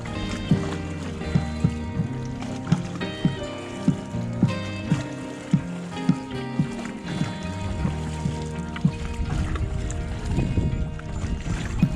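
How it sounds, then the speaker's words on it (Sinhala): Paddles strike the water of a reservoir at a regular rowing rhythm from a paddle boat, the strokes close and distinct over a faint watery background. "හබල් ගහද්දි සෑහෙන වෙහෙසක් දරන්න වෙනවා බෝට්ටුව හසුරව ගන්න"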